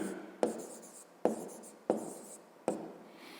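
Close pen-on-paper scratching as a fifth-grade math solution is written by hand, four short bursts of writing strokes in quick succession, each with a sharp start, and no voices.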